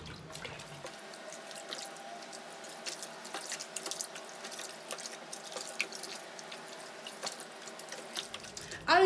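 Water runs steadily from a sink tap while a curly human-hair wig is washed with shampoo, a soft continuous stream with faint drips and splashes close by.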